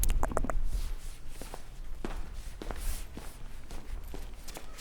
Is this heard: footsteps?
yes